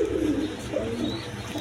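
Pakistani high-flying giribaz pigeons, a breeding pair kept with two chicks, cooing softly in low steady murmurs close by, with no talking over them.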